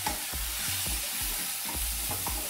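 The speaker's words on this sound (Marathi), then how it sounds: "आणि नंतर हा भिजवलेला शाबो। चांगल्या प्रकारे परतून घ्यायचं आहे।" Soaked sabudana being stirred and sautéed in a hot pan, with a steady sizzle beneath repeated scraping strokes of a spoon, about six strokes in a loose rhythm, close and fairly loud, no talking.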